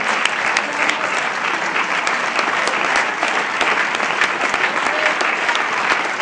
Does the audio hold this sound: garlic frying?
no